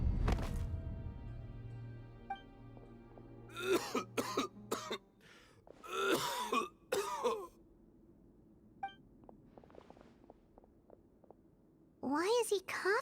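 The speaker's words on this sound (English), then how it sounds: "Why is he coughing so much?" A male character in Genshin Impact coughs repeatedly in harsh, raspy fits, with breathy gasps and a sharp ringing tone between the bursts.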